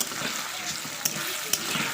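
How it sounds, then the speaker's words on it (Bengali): Potatoes frying in a pan give off a steady, close sizzle with a couple of sharp clinks from stirring. "এই যে আলুটা ভাজা বসিয়ে দিয়েছি"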